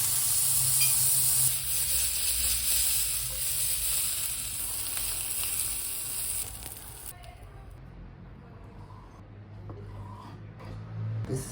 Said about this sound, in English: Now I'm going to do the normal pan fry. Use just vegetable oil and gonna do fry.